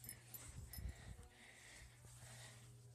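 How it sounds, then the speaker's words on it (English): A puppy making faint whimpering, sniffing sounds close by in a quiet room at night, soft and intermittent over a low steady hum. "If you hear that, that's my puppy."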